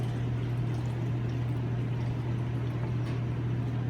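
Water poured steadily into a measuring cup to fill it to 4 cups, a continuous rushing stream heard close up with a low steady hum underneath, no talking.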